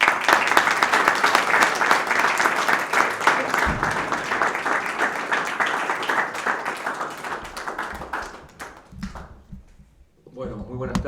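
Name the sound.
audience applause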